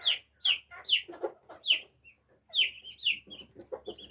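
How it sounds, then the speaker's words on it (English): Silkie bantam chicks chirping and peeping in a busy, repeated run of high calls close by, with some softer clucking mixed in and no talking. "The babies are being very noisy over here."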